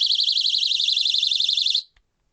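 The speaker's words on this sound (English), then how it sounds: "I've been sent, believe it or not, a panic alarm." A small personal panic alarm, also sold as a rape alarm, shrieks in a loud warbling high-pitched tone for nearly two seconds before cutting off abruptly, with no talking.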